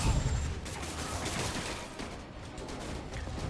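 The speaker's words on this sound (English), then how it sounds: "those criminals are fine to just fire their guns at me" Criminals firing guns in the video game Marvel's Spider-Man, a continuous dense burst of gunfire with a crackling, rattling texture, steady and fairly loud throughout.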